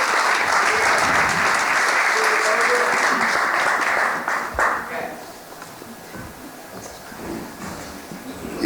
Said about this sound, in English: Can we get a round of applause for the current mayor of Houston, Mr. Sylvester Turner?